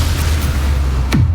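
A Bombarda blast spell goes off in Hogwarts Legacy as a loud, sustained rumbling boom with a descending whoosh near the end, close and dense, with no voices.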